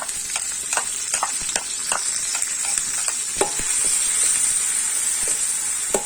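Pounded chilies, black pepper, garlic and bird's eye chilies sizzling loudly in a hot pan, with a spatula scraping and stirring in quick repeated strokes over a constant hiss.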